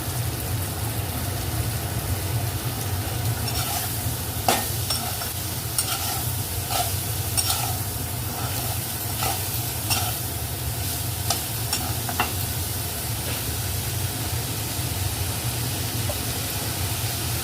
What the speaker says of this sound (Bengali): এবার লাউগুলো দিয়ে দিচ্ছি